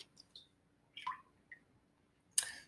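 Water drains from the spout of a can, with a few faint, sparse drips and small splashes separated by quiet gaps, ending in a slightly louder splash.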